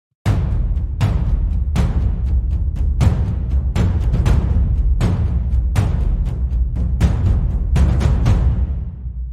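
Orchestral arrangement with loud repeated eighth-note hits pulsing in a steady rhythm, with short upbeat pickups leading between them, played alone with full low-end weight until a sudden stop.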